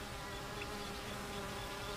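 Honey bees buzz in a dense, continuous hum, steady and fairly quiet, with no voices.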